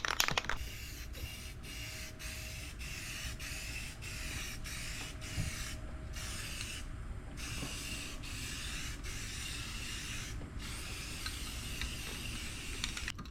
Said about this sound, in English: We'll just get a little bit of this etching primer on this for now.